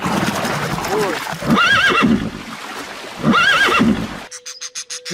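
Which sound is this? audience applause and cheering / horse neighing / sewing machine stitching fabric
horse neighing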